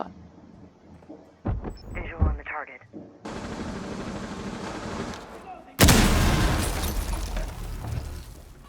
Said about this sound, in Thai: เดี๋ยวนี้ระเบิดแรงขนาดนี้เลยเหรอแต่ก่อนไม่แรงนะ